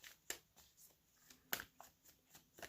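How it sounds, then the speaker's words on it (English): Tarot cards laid down on a table one after another, soft close slaps and light papery shuffles spaced irregularly in a quiet room. "Put some cards down."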